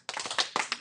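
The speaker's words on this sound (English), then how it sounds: "I'm glad some people are clapping already." A short burst of light, scattered clapping from a few audience members in a classroom algebra lecture, close and moderately loud.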